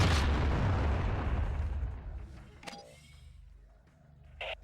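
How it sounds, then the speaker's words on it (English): Grenade explosions in the video game Tribes: Aerial Assault: a loud, sustained blast rumbling and decaying over a couple of seconds, followed by smaller scattered pops and a brief burst near the end. "Go ahead and lob a few grenades to get a feel for the weapon and its timing peculiarities."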